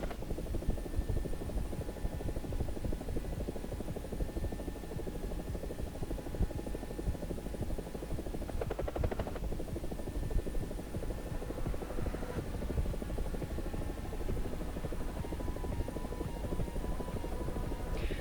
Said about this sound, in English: I had respawned in my G-Lynx helicopter with 8 Hellfire anti-tank guided missiles